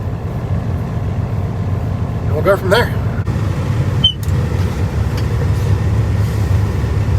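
A truck engine idling as it warms up, a steady low rumble throughout, with a person speaking briefly over it midway.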